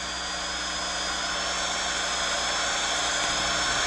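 A dental burr drills the bevel of a stainless steel tooth crown, making a continuous high-pitched whine that stays steady and close throughout.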